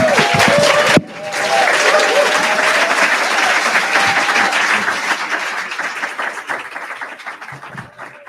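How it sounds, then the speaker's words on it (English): An audience at a family live-stream gathering breaks into sustained applause, dense clapping filling the room after a brief opening sound, then gradually thinning and fading toward the end. "Let's give him another round of applause."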